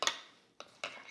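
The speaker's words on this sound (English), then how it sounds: "I'm gonna give that a little stir." A knife or spoon stirs almond butter in a jar, giving three short scraping clinks of utensil against glass separated by brief pauses, close and fairly quiet with no voice.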